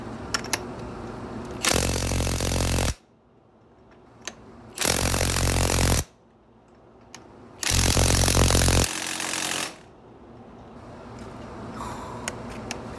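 Milwaukee M18 3/4-inch high torque impact wrench tightening nuts, three loud hammering bursts of about a second each separated by pauses.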